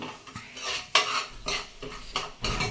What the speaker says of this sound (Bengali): ভালো করে নেড়ে চেড়ে নিচ্ছি